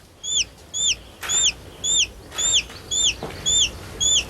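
Newly hatched chick cheeping in shrill, downward-sweeping peeps, about eight evenly spaced calls repeating every half second, close and clear with no talk.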